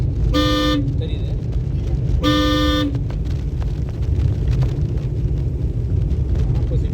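Two short, loud car horn honks about two seconds apart over a steady engine drone and road noise, sounded during a driving lesson as an oncoming vehicle approaches.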